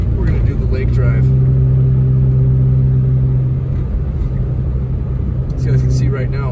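Car driving along an empty lake road around Big Bear in rainy weather, a steady loud engine drone and road rumble close to the microphone.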